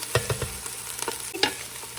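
Onions frying in a pot for lentil soup, a close sizzle broken by several quick scraping stirs and utensil taps.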